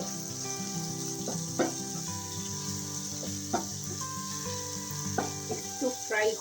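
Ginger and onion fry in a pan with a constant close sizzle, broken by occasional stirring knocks and scrapes.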